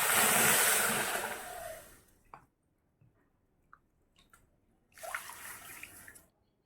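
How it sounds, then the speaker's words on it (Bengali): Water pours into a kadai of sugar for making syrup, a close gushing splash for about two seconds, then quiet clinks and a second brief pour. "আমি 2 বাটি জল দিয়ে দেবো।"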